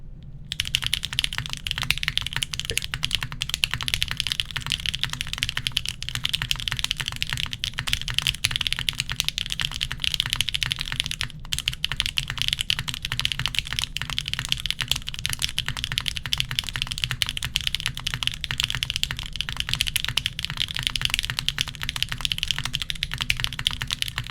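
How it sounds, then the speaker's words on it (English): Fast, continuous typing on a computer keyboard, a dense stream of quick key clicks recorded close up. The rapid pace holds steady for over twenty seconds with almost no pauses. "I'm gonna try and type as fast as possible."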